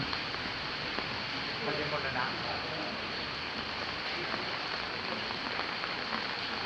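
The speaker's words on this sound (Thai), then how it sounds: "ฝนตกได้ประมาณยี่สิบนาทีแล้วทุกคนนะ" Rain falls steadily at the entrance to Wat Khao Din temple in Suphan Buri, Thailand, a soft, even hiss with no breaks, faint and distant in tone.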